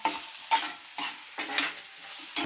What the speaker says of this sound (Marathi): छान बटाटे फ्राय झाले आहे